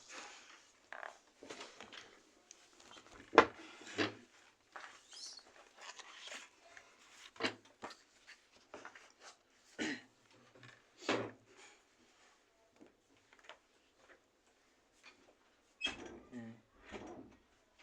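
A classroom door is handled and pushed shut, giving a series of scattered wooden knocks and thuds, some sharp and some dull, spread irregularly through a quiet room.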